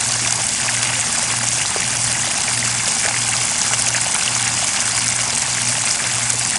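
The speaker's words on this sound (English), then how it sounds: "Still pumping, that's more than 5 gallons." A sump pump pushes crawlspace condensate water out of a discharge line in a steady, loud gush of pouring water, with a faint low hum pulsing underneath and no one talking.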